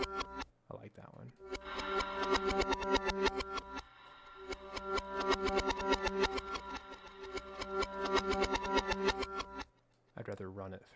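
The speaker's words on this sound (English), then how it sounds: "reversing horror sound effects is just as cool, if not cooler, than the bass sounds" A reversed horror sound effect patch on violin and cello swells through rhythmic, distorted, pulsing passages that stop and restart, with brief gaps of silence between.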